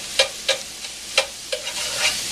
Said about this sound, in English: A whisk. And as it cooks, you just break it up.